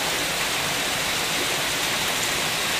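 Heavy downpour over a flooded street in Metro Manila, a close, unbroken roar of rain, broad and loud, holding steady the whole time.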